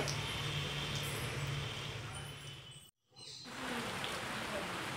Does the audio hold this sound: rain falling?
yes